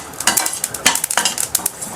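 Food fries in a hot, heavy pan, with a quick, irregular run of metallic utensil scrapes and taps over a soft sizzle, close and fairly loud.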